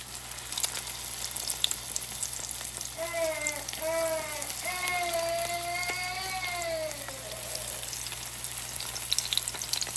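Fish and vegetable spring rolls (lumpia) frying in hot oil give a steady, close sizzle for the whole stretch, with a brief wavering tonal hum riding over it midway.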